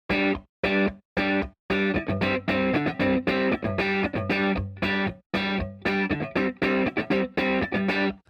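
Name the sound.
electric guitar with effects, played without reverb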